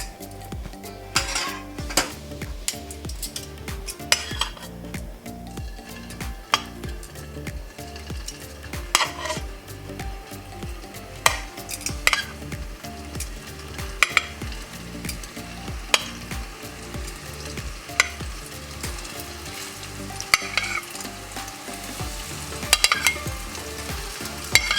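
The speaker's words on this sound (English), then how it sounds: "we're going to shallow fry. Now I'm going to add oil, and we want medium flame." Lamb meatballs shallow-fry in light olive oil over a medium flame, giving a steady sizzle broken by repeated clinks and scrapes of a utensil against the pan.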